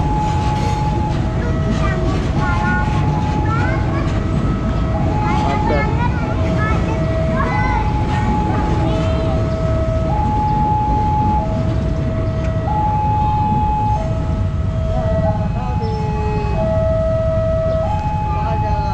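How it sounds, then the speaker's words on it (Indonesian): A KRL commuter train rumbles loudly and continuously through Lempuyangan station while a two-tone warning signal alternates steadily over the noise, and people talk nearby. "Kayaknya KRL lewat sini."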